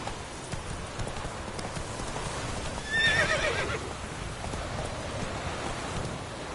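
In a PS4 video game, a horse gallops with steady hoofbeats through constant rain noise and gives a short, sharp whinny midway.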